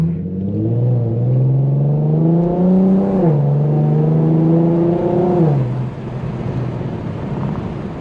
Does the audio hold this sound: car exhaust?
yes